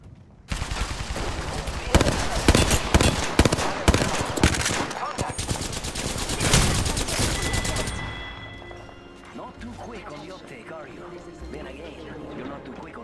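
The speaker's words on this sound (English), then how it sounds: "Opening fire on the enemy." Rapid automatic weapon fire in Apex Legends erupts in dense, loud bursts for several seconds, then gives way to quieter game effects, with a player speaking over the action.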